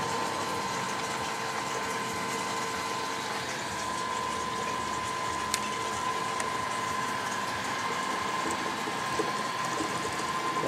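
Homebrew wort pumped through a chiller coil circulating with ice into a fermenter, a steady low mechanical pump hum with a faint tonal whine and watery flow, continuous and even throughout.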